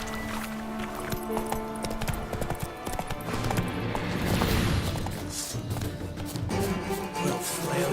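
Horse hooves clip-clop at a gallop in The Witcher 3, with a rapid, steady rhythm and other game sounds mixed in, fairly loud and close.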